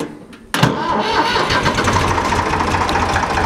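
A Ford 335 industrial diesel engine fires up abruptly after a short starter crank, then settles into a steady, close, rumbling low idle with no one speaking.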